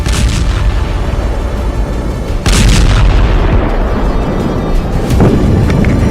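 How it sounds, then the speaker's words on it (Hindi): Powerful explosions from airstrikes on Hezbollah sites in Beirut, a continuous loud low rumble with heavy booms breaking through, including a sharp surge partway, dense and sustained throughout. "लेबनान की राजधानी बेरूत में कई शक्तिशाली विस्फोट हुए।"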